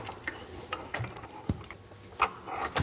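A restored World War-era military hand pump being worked after reassembly, with irregular clanks, ratcheting clicks and knocks against a quiet background and no talk.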